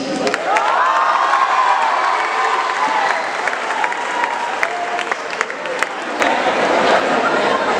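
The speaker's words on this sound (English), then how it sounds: "Don't stop your clapping." Applause and cheering from a crowd of children and adults at a school Teachers Day celebration, loud continuous clapping with shouts and whoops, voices calling out over it.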